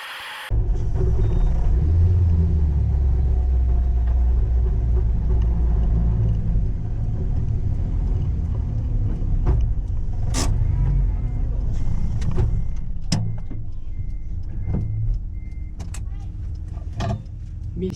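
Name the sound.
loud noise from blown transmission of K24R-swapped MR-S being rolled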